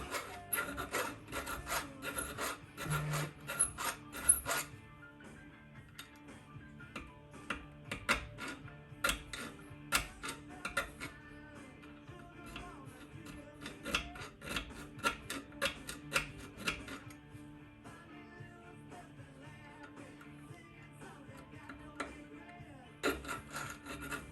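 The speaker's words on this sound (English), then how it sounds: "If it don't work, then I'll file some more." Steel file rasping a knife guard to a snug fit, with bursts of rhythmic scraping strokes close up, pausing and resuming, alone without talk.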